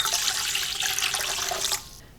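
Lukewarm water pours into a bowl for hamburger bun dough, a close, steady splashing stream that stops abruptly near the end.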